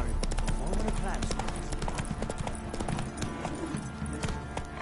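Roach, the horse in The Witcher 3, gallops with fast, rhythmic hoof clip-clops throughout, layered with game sound effects and a voice speaking over them.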